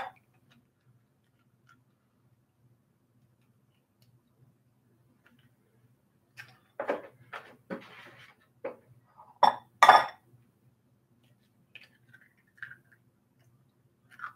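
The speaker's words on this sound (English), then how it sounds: "I'm gonna crack these eggs." Eggs cracked into a bowl produce a few sharp, close taps and clinks against the rim in a short cluster, followed by a couple of faint knocks in an otherwise quiet room.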